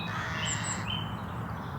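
Crows caw outdoors in repeated harsh calls over a steady background hum of open air, moderately close and fairly loud.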